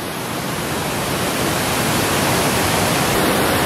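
Water of a river in Gatineau Park, Quebec pours under a little bridge, a strong, steady broadband rush that swells slightly toward the end, with no speech.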